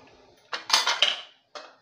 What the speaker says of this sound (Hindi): और दाल हम चला के देखेंगे